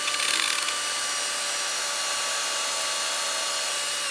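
A wooden bowl spinning on a lathe is sanded with firm pressure, giving a steady, bright hiss of abrasive on wood that runs without a break and stays close.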